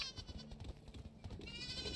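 Goats bleat in a medieval farming game, a few short wavering cries in a quiet setting, one clearly close and the others fainter.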